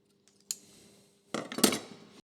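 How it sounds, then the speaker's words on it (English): A paper pattern is cut to size with scissors: one quick snip, a short pause, then a denser run of crisp cutting strokes, close and fairly quiet, with no talking. "I'll cut the pattern to size"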